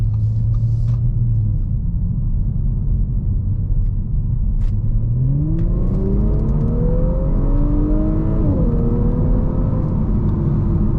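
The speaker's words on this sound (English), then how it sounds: "So I'm gonna get the car up to 25 miles an hour and then just kind of punch it and see how fast the transmission reacts" A 2023 Audi S5 Sportback, 349 horsepower, accelerating hard from 25 to 60 mph: a steady loud engine drone whose pitch climbs through a rising sweep, briefly dips at a gear change, then pulls on, with road rumble throughout.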